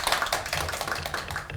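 Audience applause at an indoor book concert and poetry reading event, a dense patter of many hands clapping together steadily without any voices.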